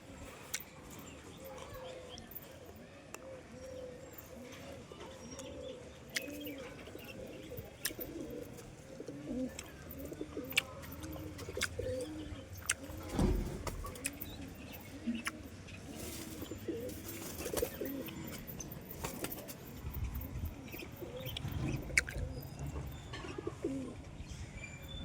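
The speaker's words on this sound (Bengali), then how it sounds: "এই কটি পায়রা আছে আমার কাছে" Pigeons coo steadily in a repeating, rolling rhythm close by, with several birds overlapping and faint chirps and outdoor rustle mixed in throughout.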